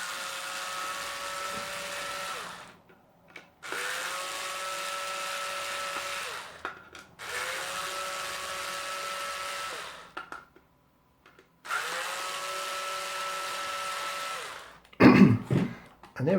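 Four long whirring bursts from a powered screwdriver backing out the base screws of a Sonoff SC sensor unit, each run of roughly two to three seconds separated by brief pauses, close and steady, followed by a short clatter at the end.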